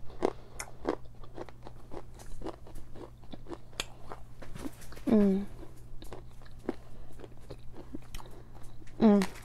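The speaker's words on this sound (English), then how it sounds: "Let me just chew on a clay pot real quick." Close, loud crunching and chewing of an edible mini clay pot, with repeated sharp bites and crackly crunches in an irregular rhythm, plus a couple of brief squeaky vocal sounds.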